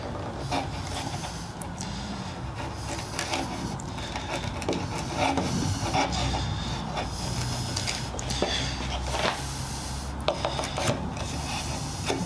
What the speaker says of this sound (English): I'm just going to go in with my widest bench chisel.